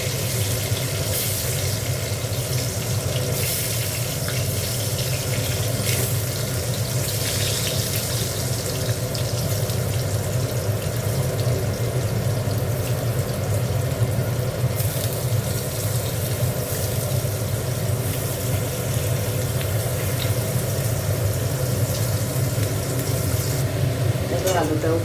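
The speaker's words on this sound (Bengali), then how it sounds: "আলুটা ভেজে নেব।" Potato pieces fry in a pan for a light Bengali fish curry, with a loud, steady, close sizzle that holds unchanged for the whole stretch.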